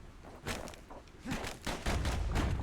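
Dual slinger pistols fire in rapid bursts in the action game Bastion, a series of sharp, close, moderately loud shots clustered in quick volleys.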